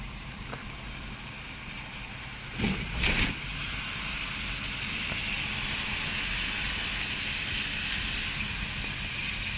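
Steady road noise and a low engine hum from inside a moving 1973 Ford Mustang Mach 1 coupe, with a brief clunk partway through, continuing evenly without speech.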